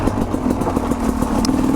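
Sherco 250 SE two-stroke dirt bike rolling along with the clutch out and rear brake dragging, its quiet engine putting out a steady mid-pitched putter with a regular pulsing rhythm, close and alone without talk.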